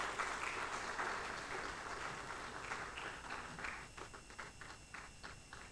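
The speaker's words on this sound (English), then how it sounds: "Can we give him a round of applause?" Faint, distant applause from the audience at the opening ceremony of the 10th Calestous Juma Executive Dialogue, a soft wash of many hands that thins into scattered individual claps toward the end.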